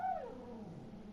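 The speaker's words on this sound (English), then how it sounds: "that's my dog getting a bit angry at people" A pet dog gives a short, strained howling whine that slides downward, heard alone at moderate distance over quiet background.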